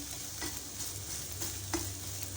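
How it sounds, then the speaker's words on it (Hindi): Beaten egg fries in a pan with turai (ridge gourd), giving a steady soft sizzle with a few faint stirring scrapes, close and fairly quiet, with no talk. "अंडे को मैं फ्राई कर लूँगी।"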